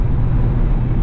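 A Chevrolet C5 Corvette drives through corners, giving a loud, steady low engine and road rumble from inside the car with no break or change across the short stretch.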